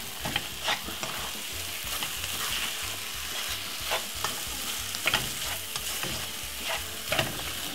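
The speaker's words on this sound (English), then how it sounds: "Get that nice lovely sardine and simple, pop it straight inside of it like that. give it a lovely stir." Sardines fry over medium heat in a pan, giving a continuous close sizzle broken by scraping, clattering stirs of a utensil against the pan at irregular moments.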